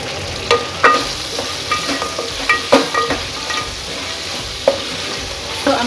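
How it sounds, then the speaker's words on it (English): Oil sizzles steadily in a pan while a utensil stirs, giving irregular scraping clinks over a constant frying hiss, close and moderately loud. "So I'm going to let this fry until it's brown in color, dark brown rather."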